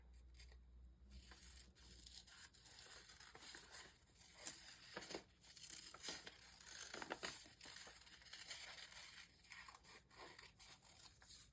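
Scissors fussy-cutting paper for a junk journal, with repeated close snips and crisp rustling and crinkling of the sheet in an uneven, steady rhythm, quiet and alone with no voices.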